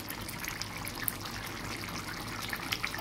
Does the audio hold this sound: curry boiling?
yes